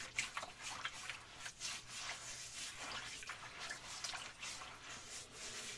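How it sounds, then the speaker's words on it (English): Oil paint brushes being rinsed and worked against a grating in a 5-gallon water bucket, giving soft, continuous sloshing, dripping and scrubbing sounds up close, with no talking. "I've got a couple of brushes that I gotta rinse off."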